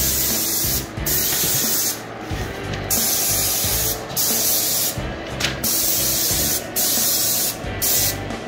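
A spray gun lays a final coat over red Bondo in rapid hissing bursts, each lasting about a second and separated by short pauses, loud and close with no talking.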